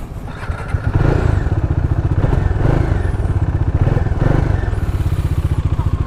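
A Bajaj Dominar 400 motorcycle is ridden, its engine rumbling loudly and steadily up close with a rapid pulsing throb and some rattling.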